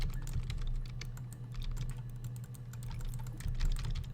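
Rapid, irregular clicking of computer keys as someone types steadily, close and moderately loud over a low background hum.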